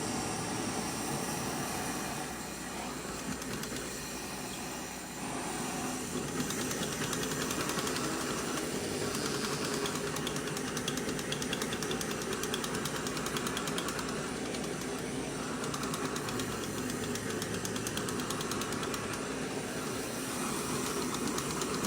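A torch roars with a constant, dense hissing flame as it passes over freshly poured epoxy in tumbler cups, a loud unbroken rush of burning gas lasting the whole stretch with slight surges.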